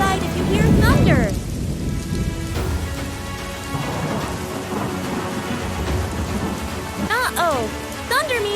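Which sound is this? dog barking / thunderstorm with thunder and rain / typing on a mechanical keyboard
thunderstorm with thunder and rain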